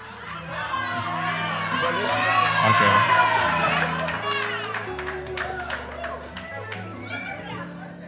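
A church congregation cheers and claps in praise, a lively crowd of voices shouting and singing together over a steady instrumental backing, swelling in the middle and continuing throughout.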